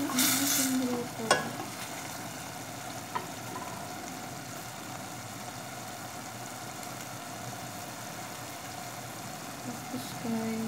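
Tuna and vegetables sautéing in a pan are stirred, with a steady close sizzle and a few scraping clinks of the utensil against the pan, all under a constant frying hiss.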